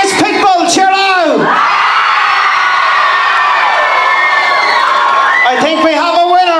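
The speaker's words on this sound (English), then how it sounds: "If you think it's Pitbull, cheer now." A loud, sustained crowd roar of cheering, whooping and yelling from a school variety show audience in Enniscorthy, preceded and followed by a host's amplified voice.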